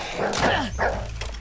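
Dog bark from the survival video game DYSMANTLE: Underworld, one or two short yelping barks with a whimpering pitch sweep, close and fairly loud, with no talk over them.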